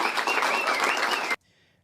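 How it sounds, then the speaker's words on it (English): Loud, dense applause from an audience at a political speech, a close wash of clapping that holds steady and then cuts off abruptly, leaving near silence. "give her a round of applause."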